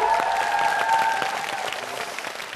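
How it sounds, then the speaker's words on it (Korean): Studio audience at a Korean variety show greets the host with dense, continuous applause, loud and steady throughout before easing slightly near the end. "박수 쳐"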